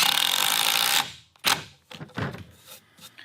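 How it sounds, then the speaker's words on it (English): A Metabo HPT triple hammer impact driver rattles hard for about a second, driving a screw into pressure-treated hemlock, then falls silent. A few scattered knocks and thunks of handling follow. "I'm running into some pressure treated hemlock with a triple hammer, Metabo HPT triple hammer impact driver"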